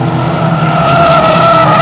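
Racing lorries overtake at Bovingdon Raceway with loud, continuous engine roar and a sustained whine, close and dense for the whole stretch.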